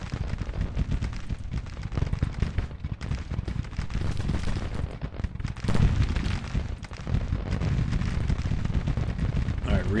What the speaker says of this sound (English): They've got this artillery firing on them.